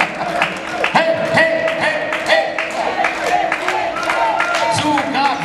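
An audience claps and cheers for a singer, with dense, steady applause and whoops filling the room while voices carry over it.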